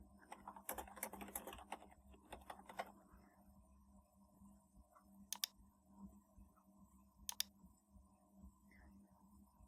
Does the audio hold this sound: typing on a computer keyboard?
yes